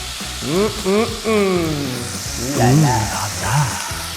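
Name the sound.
ingredients sizzling as they fry in a pan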